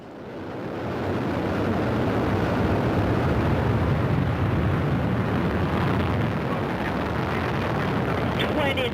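A Soyuz rocket lifts off from Baikonur, first-stage booster engines with four strap-ons and a core engine building within a second into a dense, continuous, loud rumbling roar, with a voice speaking over it.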